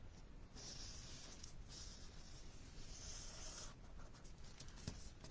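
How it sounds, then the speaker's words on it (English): A pencil traces around a heart-shaped die on paper, a faint, steady scratching with a few brief pauses, quiet and close, with no speech. "just trace around it with my pencil"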